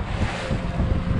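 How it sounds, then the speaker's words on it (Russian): Wind buffeting the microphone over choppy waves on Lake Ladoga, heard from a fishing boat under a clear sky, a steady broadband rush with low rumbling gusts and no voices. "За бортом вот такая погода. Чистое небо, ветер и волна."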